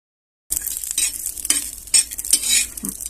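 Red garlic dry-roasting in a pan for a homemade spice mix, a close crackling sizzle broken by rhythmic scrapes of a stirring spoon roughly every half second.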